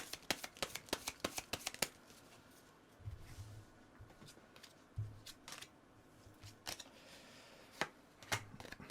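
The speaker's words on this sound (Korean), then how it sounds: "그리고 좋은 카드 한번 뽑아볼게요." Tarot cards are shuffled and drawn by hand: a quick burst of crisp riffling snaps up close, then scattered soft slaps and slides of individual cards being laid out, with quiet pauses between and no voice.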